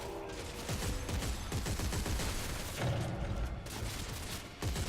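Rapid gunfire from weapons in the sci-fi horror shooter Dead Space 3, used against reanimated enemies, with dense bursts of shots and booming impacts rolling on continuously and loudly over a busy game soundscape.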